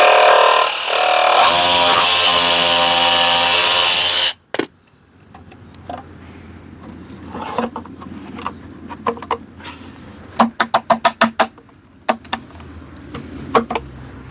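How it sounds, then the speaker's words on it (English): A jigsaw cuts into a composite door sill, a loud harsh buzz for about four seconds that then stops abruptly. A run of sharp knocks and taps follows, several in quick succession near the end. "So we're just going to cut that out now with our jigsaw and re-offer the sill into place."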